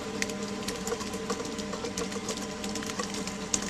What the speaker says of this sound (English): We'll just crank a little pepper in here.